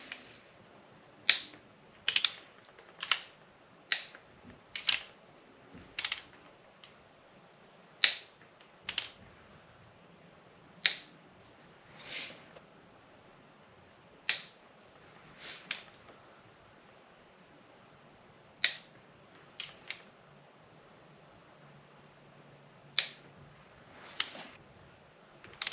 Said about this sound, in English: Got my torque wrench here. So the first pass gonna be 25 foot-pound.